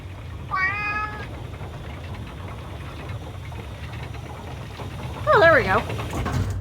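A cat meows twice over a steady low engine-like hum from the Riven game, one short call early and a louder, wavering meow near the end.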